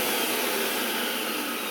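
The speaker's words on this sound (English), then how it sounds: "if I keep it here and I put it on the vacuum section, it does re-inflate" A vacuum cleaner runs on a vacuum storage bag, giving a steady, close broadband whoosh that holds level throughout with no voices.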